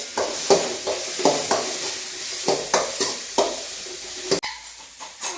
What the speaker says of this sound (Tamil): வெங்காயத்தை நல்லா பொன்னிறமானபடி வறுத்து எடுக்கணும்